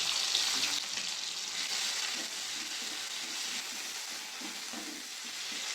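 Cumin seeds, slit green chillies, tomato and ginger paste hit hot oil in a pan for a tangra fish curry, giving a steady, loud broadband sizzle with faint stirring scrapes throughout, and no voices.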